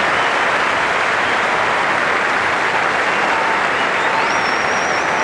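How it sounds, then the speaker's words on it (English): A full-house crowd at a cricket stadium applauds in a steady, dense wash of clapping that fills the whole stretch, broad and continuous, with a faint whistle rising near the end. "Big round of applause from his full house."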